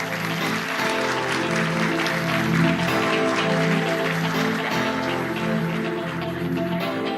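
A conference audience applauds as the CEO is welcomed onto the stage, dense and sustained clapping filling the room at steady loudness throughout.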